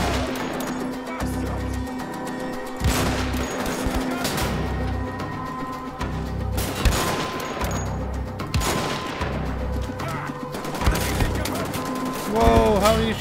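Gunfire in the video game Wolfenstein: The Old Blood comes in scattered bursts and single shots amid clanks and impacts, with a voice talking intermittently.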